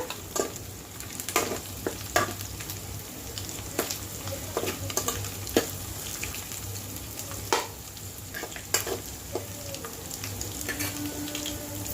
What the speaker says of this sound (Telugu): ఉడకపెట్టిన రొయ్యల్ని వేసేసుకోవాలండి. వేసుకొని కొంచెం వేగనివ్వాలి.